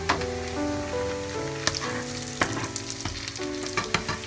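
Nuts frying in a bowl of hot fat make a dense, continuous sizzle. Sharp crackles and pops burst through it at irregular moments, close and fairly loud, with no voices.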